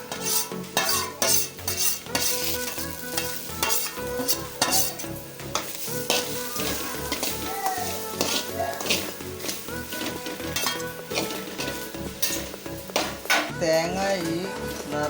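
Grated coconut fries and is stirred in a pan, giving a continuous close sizzle with repeated scraping and clanking of the spoon against the metal, steady throughout.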